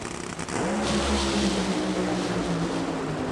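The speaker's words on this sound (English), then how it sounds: "It's the Nitro Funny Car Final." A nitro Funny Car drag race final, with a loud, sustained engine roar that swells as the cars launch and holds steady, heard alone without talk.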